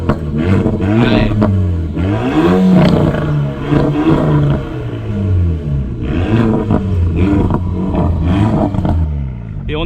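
Renault Sport Trophy engine revving hard and loud throughout, pitch climbing and falling in repeated sweeps, with exhaust crackle likely among the pops.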